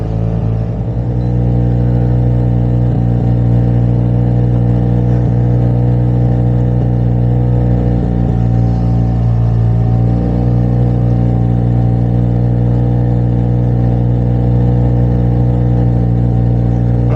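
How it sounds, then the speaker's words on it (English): A Hangkai 6hp outboard motor runs at slow speed on the River Deben in Suffolk, a steady, loud, low-pitched drone and purr that holds even throughout, with no voices. "the little Daihatsu's sort of purring away there at slow speed"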